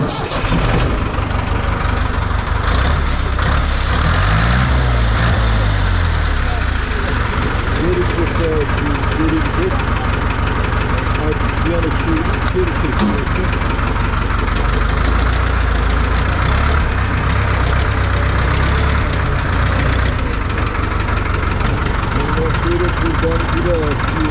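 Diesel engine of a Ford 5000 tractor in a workshop cranking to life and settling into a steady, loud, close rumbling idle that runs throughout, with someone talking over it at times.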